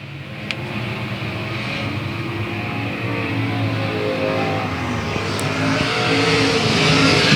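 Race cars roar around South Texas Speedway in a continuous dense engine drone that swells slightly toward the end, several machines blending into one loud sustained wall of sound with no talking.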